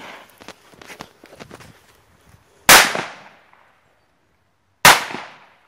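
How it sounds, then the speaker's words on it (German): A-Böller and Supercracker firecrackers going off outdoors: footsteps and shuffling at first, then two sharp, loud bangs a couple of seconds apart, each with a short echoing tail. "A-Böller und Supercracker, beide auf einmal."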